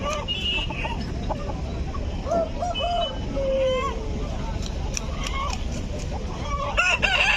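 Aseel roosters at the Gudur weekly chicken market crowing several times and clucking amid a busy crowd, with people talking nearby.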